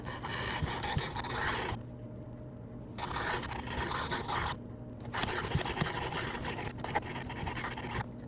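A knife blade scrapes along the abrasive of a Work Sharp Precision Adjustable sharpener in repeated strokes of one to two seconds, separated by short pauses, close and clear with no talking.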